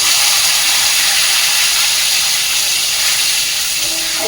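Spices hitting hot oil in a pan while cooking a vegetable dish give a steady, loud, close sizzling hiss that holds without a break, with no talking.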